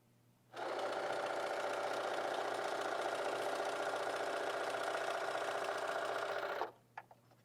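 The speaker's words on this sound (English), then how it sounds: "Okay, I'm going to go ahead and sew these two sides on." A sewing machine runs steadily for about six seconds stitching the sides of a quilt border, a loud continuous whirring hum that starts and stops abruptly, followed by a couple of small clicks.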